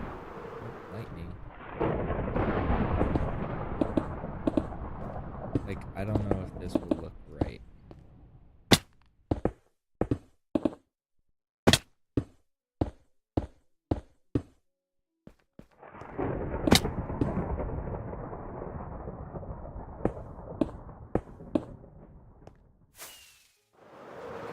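Lightning in Minecraft sends rumbling thunder and a string of sharp cracking strikes, with long loud rolls at the start and again near the end, and a person speaking briefly over them.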